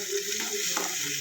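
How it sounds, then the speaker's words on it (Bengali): Prawns fry in a pan with a dense, even sizzle up close and a faint stir or scrape near the end, with no talking. "চিংড়ি মাছটা আমার ভাজা হয়ে গেছে"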